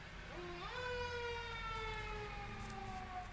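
An emergency vehicle siren passing on the street, its wailing tone rising and then falling steadily, moderately distant and heard alone over low traffic rumble.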